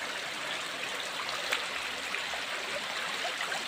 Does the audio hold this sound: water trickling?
yes